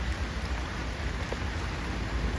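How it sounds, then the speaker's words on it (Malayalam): A dense, steady wash of heavy rain at Chaliyam during net fishing, constant hiss and patter with no pauses and no voices. "നല്ല മഴ പെയ്തുകൊണ്ട് നമുക്ക് അങ്ങോട്ട് പോയി വീഡിയോ എടുക്കാൻ കഴിഞ്ഞിട്ടില്ല"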